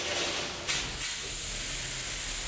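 A fire sprinkler nozzle sprays antifreeze solution down over a stove, a loud steady hiss that jumps in level briefly partway through and continues as a broad rushing spray.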